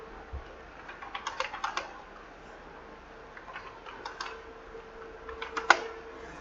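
Quick bursts of typing on a computer keyboard while writing a footnote in Microsoft Word, with irregular clusters of light key clicks, close and fairly quiet, separated by short pauses over a steady low hum, with no talking.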